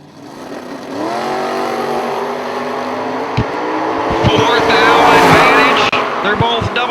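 Drag racing cars, including a 1968 Camaro, at a bracket racing event: loud engines idle and rise into a roaring, revving launch that builds and then fades slightly, with an announcer talking over it.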